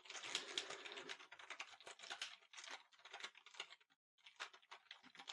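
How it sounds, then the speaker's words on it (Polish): Rapid, uneven keystrokes on a computer keyboard as filler text is typed, crisp clicking bursts with a short pause near the end, close and quiet with no talking. "po prostu z klawiatury wpiszę cokolwiek"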